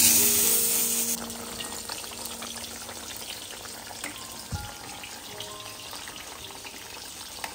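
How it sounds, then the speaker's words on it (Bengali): Eggplant fries in a pan for a Saturday vegetarian meal, giving a steady soft sizzle that starts slightly louder and then settles into a constant low crackle with occasional small pops, close by and without talk. "এদিকে বেগুন ভাজা বসেছি"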